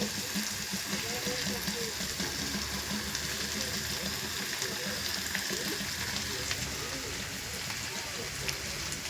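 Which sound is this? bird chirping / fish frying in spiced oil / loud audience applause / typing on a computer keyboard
fish frying in spiced oil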